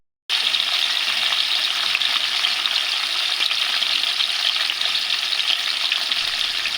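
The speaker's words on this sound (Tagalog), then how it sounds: "Nang mainit na nga ang mantika, inilagay ko na isa-isa itong mga isda." Small tawilis fish fry in hot oil, giving a steady, close, loud crackling sizzle that starts suddenly and holds evenly throughout, with no talking.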